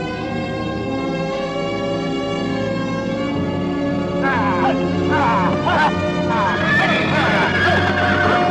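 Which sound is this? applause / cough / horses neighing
horses neighing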